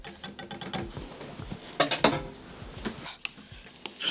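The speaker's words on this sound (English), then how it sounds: "So I'm just gonna fucking whisk this down without making a mess. I'm gonna use a fork instead." Fork whisking tandoori marinade in a bowl, rapid clattering metal-on-bowl clicks and scrapes in quick bursts, close and moderately quiet, with a couple of louder clinks midway.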